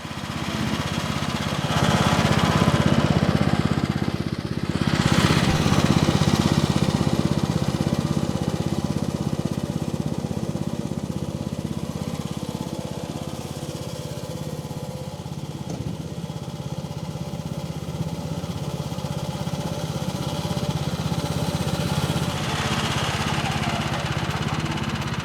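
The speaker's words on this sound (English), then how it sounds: "we'll do some mowing with it just to show you the fine cut that it gives" A Cobra Fortis cylinder lawn mower with a 10-blade cartridge and grass box cutting a lawn hums as a steady, loud engine drone throughout, with slight swells in pitch and no talking.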